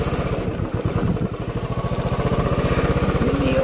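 A motorcycle engine runs close by, a loud, rapid, even putter of firing pulses that grows slightly stronger toward the end, with no talking.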